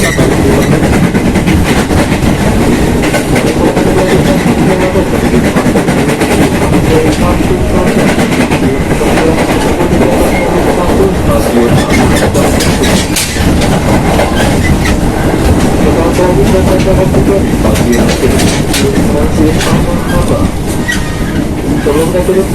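Jabodetabek Commuterline electric train running on rails, a loud continuous rumble with rhythmic wheel clatter heard from inside the carriage, while a voice speaks over it.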